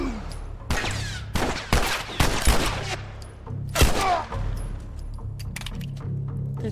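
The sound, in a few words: gunfire in the video game The Last of Us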